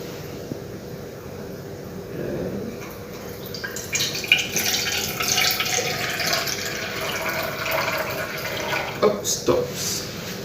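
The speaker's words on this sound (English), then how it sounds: "I will pour this water into the measuring cup until 100 milliliter." Water poured into a measuring cup up to the 100 millilitre mark during a lab measurement exercise, a steady close splashing and trickling pour that swells midway and tapers with a few drips near the end.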